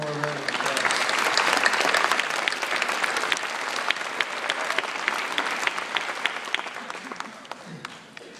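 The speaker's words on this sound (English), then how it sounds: "One more round of applause." An audience at a Joyce University commencement ceremony claps for the graduate speakers in loud, crisp, dense applause that starts just after a brief voice and tapers slightly near the end.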